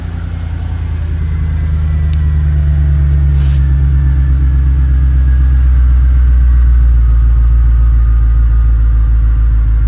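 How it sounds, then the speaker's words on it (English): A bone-stock 2003 Mercedes-Benz E55 AMG idles at around 850 RPM in a steady, smooth, low rumble heard close up, with a brief faint tick partway through and no talk. "idling at like 850 RPM here."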